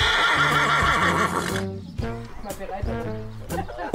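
A horse whinnies loudly and close, a long neigh trailing off, then further shorter whinnies among other horses at a bone-setter's visit, while a narrator talks over the sounds.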